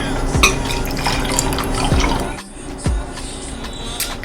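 Liquid is poured for a cocktail, a close, steady splashing stream with a few dripping, sloshing bursts and a brief pause partway through.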